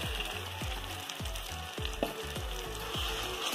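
Spice paste for matar paneer sizzling in hot oil, a steady crackling hiss with a regular series of scraping stirs.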